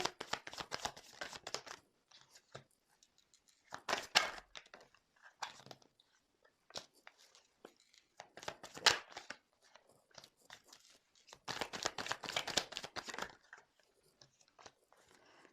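Tarot cards being handled and shuffled, heard as crisp papery riffling bursts in irregular clusters with quiet gaps between, close and fairly soft, with no talking.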